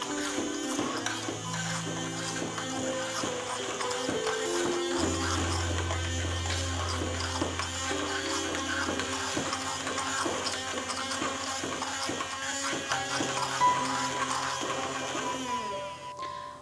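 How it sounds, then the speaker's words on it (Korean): A blender grinds tofu, salt and pepper into tofu mayonnaise, a continuous whirring motor drone with shifting tones as the mixture smooths out, alone without talk. "이렇게 한데 모아놓은 재료를 블렌더를 이용해 곱게 갈아줍니다."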